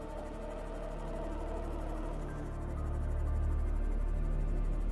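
Leviathan creature in the underwater video game Subnautica, a low, drawn-out whale-like call that swells to a deeper moan, faint under ambient underwater drone, no talk.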